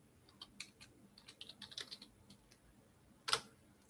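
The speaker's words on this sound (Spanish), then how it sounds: "Entonces voy a escribir algo por teclado." Someone types on a computer keyboard, a sparse run of soft, irregular key taps ending in one sharper, louder keystroke, close by and with no talking.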